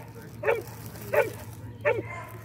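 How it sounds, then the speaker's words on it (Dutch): A search and rescue dog gives three sharp, evenly spaced barks at moderate distance, each short and clear above a low background hum. "Laat hem maar blaffen, hè."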